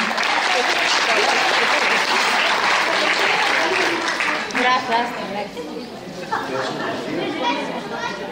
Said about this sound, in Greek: Ένα χειροκρότημα για να τις εμψυχώσουμε.